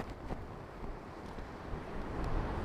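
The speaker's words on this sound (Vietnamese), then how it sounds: "Vùng ngoài này sóng biển này." Sea waves wash along the Vĩnh Hy coast as a steady, rough broadband rush, with wind buffeting the microphone throughout and a slight swell toward the end.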